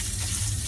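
Cold tap water runs over pasta in a colander, a steady broadband hiss and splash, close and continuous with no voices.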